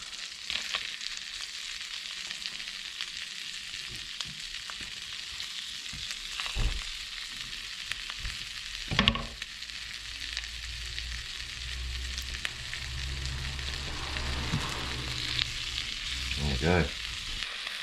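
Wild foraged octopus frying in a pan outdoors, a continuous soft crackling sizzle with occasional utensil knocks and scrapes, moderately faint and steady.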